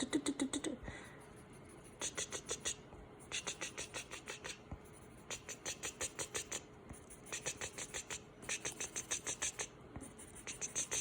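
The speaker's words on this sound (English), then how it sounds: "I'm just moving my pencil really quick." A pencil scribbles quickly on paper in short, fast bursts of scratchy strokes, making quick little texture marks in a steady rhythm with brief pauses between groups.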